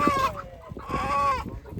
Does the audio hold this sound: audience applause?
no